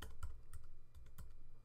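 Computer keyboard keys typed in a short burst of irregular clicks, close and fairly quiet, with no voices.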